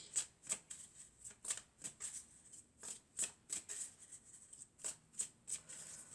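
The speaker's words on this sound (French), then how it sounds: "Alors, on va couper. Hop, et on va prendre cette carte." Oracle cards are shuffled and cut by hand, producing a quiet run of rhythmic, crisp slaps and riffles repeating about every half second with no talking.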